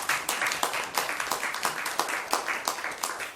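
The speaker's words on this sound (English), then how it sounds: "how about a round of applause for our new council," A council meeting audience applauds the new council, a brisk patter of many hands with rhythmic surges, fairly close and steady throughout, no voices over it.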